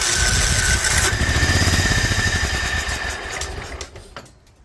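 A Toro Wheel Horse 265 garden tractor engine, choked and primed with starter fluid on a newer-style starter, kicks over and runs roughly and loudly up close for a few seconds before faltering and dying away.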